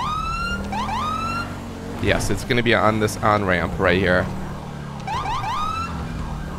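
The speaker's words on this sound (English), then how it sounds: "Alright, I hear the siren." Wailing police siren in the GTA 5 game, sweeping up and down steadily at moderate distance, briefly under a man's speech in the middle before rising clearly again alone.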